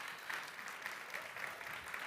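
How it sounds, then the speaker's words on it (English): Applause from an event audience cheering six competing teams on stage at a summit pitch event, a soft, steady wash of many hands clapping at a distance. "we just give like a big round of applause to all 6 teams"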